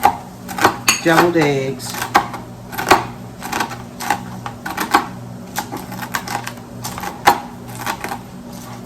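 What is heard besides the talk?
knife chopping bacon into small pieces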